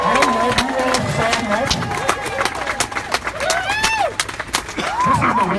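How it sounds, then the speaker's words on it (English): Crowd clapping and cheering at an outdoor candlelight vigil at the Wisconsin State Capitol, steady and fairly close, with shouts and voices rising through it. "Round of applause for the folks in the audience that have kids out here today."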